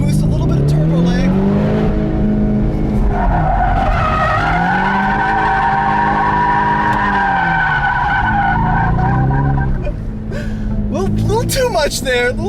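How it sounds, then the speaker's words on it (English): A Ford Mustang EcoBoost pulls hard at full throttle with a touch of turbo lag, its loud engine note climbing, holding, then dropping and rising again, with a voice talking over it. "Full throttle on the EcoBoost, a little bit of turbo lag."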